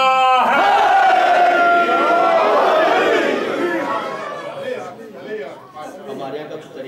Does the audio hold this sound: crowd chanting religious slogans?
yes